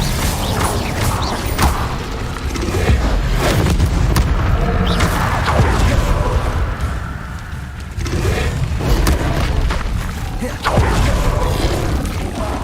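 Spells cast in Hogwarts Legacy on PC form a loud, dense stream of magical whooshes, crackles and booming impacts, with several sharp bursts marking each new cast in quick succession.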